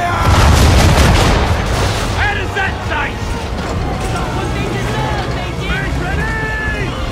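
A deep boom from a ship's cannons opens a noisy Assassin's Creed III naval fight, followed by shouting crew voices and sea ambience with a continuous rough rumble underneath.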